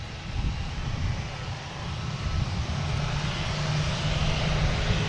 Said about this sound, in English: EasyJet, about to spool up.